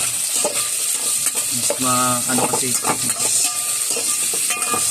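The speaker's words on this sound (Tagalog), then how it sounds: "Masarap kasi pag ginisa muna yung mga sangkap hanggang mag-melt lang ng konti." Ingredients for chicken sinigang with calamansi are sautéed in a hot pan, a steady close sizzle broken by scraping stir strokes that come and go throughout.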